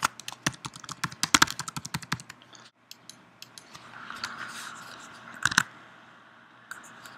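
Keystrokes on a computer keyboard as a custom database password is entered, starting as a quick, close burst of crisp taps, then a pause and a few scattered presses over a faint background hum.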